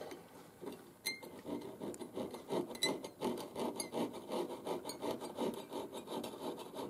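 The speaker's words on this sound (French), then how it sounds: "en ce moment la scie, sur les côtés, elle lime plutôt qu'elle ne scie" A handsaw rasps along the sides of a wooden cut, filing more than sawing, in a steady close rubbing rhythm of short strokes with no voices.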